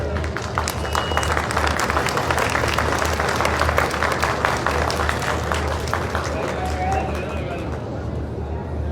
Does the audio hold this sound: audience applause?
yes